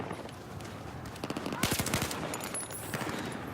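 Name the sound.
grenade explosions in a video game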